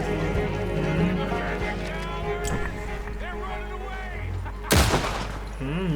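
Gunfire in Red Dead Redemption 2 during a stagecoach robbery: one loud, sharp burst of shots near the end cuts through ongoing game sounds, while people talk throughout.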